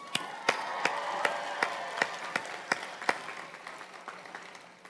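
Fairly quiet audience at a college commencement for a hospitality management school, clapping steadily, with a few sharp claps standing out over a soft bed of applause that fades toward the end.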